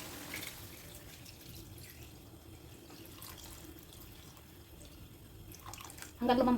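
Water runs steadily into a cooking pot for pinapaitan broth, a soft continuous pour.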